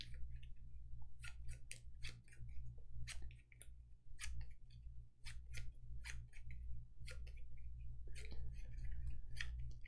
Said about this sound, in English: we'll shuffle his cards and give him 5